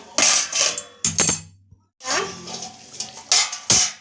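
A lid set onto a cooking pot of potatoes simmering over medium gas, giving short metallic clinks and clatters among kitchen handling noises, with brief pauses between bursts.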